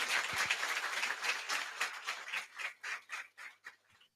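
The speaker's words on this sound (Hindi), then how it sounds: "जोरदार तालियों से इनका फिर से स्वागत करें" An audience claps in a hall at a coaching academy's felicitation event for state civil service toppers, a steady ragged applause that thins into scattered separate claps before fading out.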